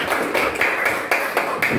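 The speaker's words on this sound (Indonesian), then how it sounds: "tepuk tangan untuk kita semua" A classroom group claps together in a few uneven bursts, the hand claps sharp and close, with brief dips between rounds.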